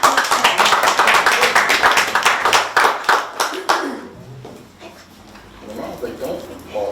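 Audience hands clapping at a poetry reading held in a gallery, a dense burst of claps over the first four seconds that thins out as a voice talks quietly underneath.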